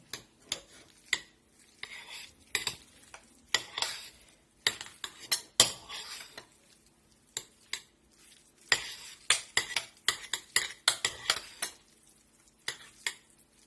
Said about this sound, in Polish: teraz mieszamy dokładnie energicznie